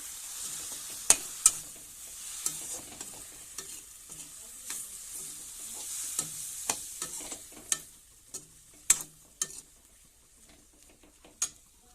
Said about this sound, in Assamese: এইফালে মই শুকান মাছ ভাজি আছোঁ।